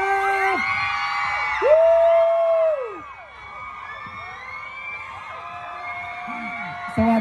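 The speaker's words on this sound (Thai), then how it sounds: "ถ้าพร้อมแล้วนะครับส่งเสียงกรี๊ดดังๆต้อนรับพี่มิวและน้องกาฟ" A fan crowd at Siam Paragon screams and cheers in loud, high shrieks and whoops that swell and fade. A voice talks over an amplified system amid the noise.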